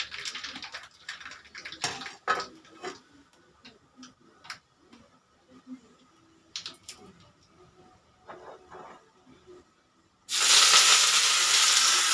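Mustard seeds and chillies hit hot oil near the end, bursting into a loud, sustained sizzle after a stretch of quiet scattered clicks and small kitchen ticks.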